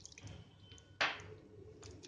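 Thick suji batter with added water is stirred by hand, giving soft wet squelches and one sharper sticky slap in the middle, close and quiet without talking.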